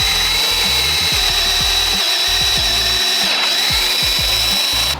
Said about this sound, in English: make sure you're drilling straight, following the orientation of the hole as it is now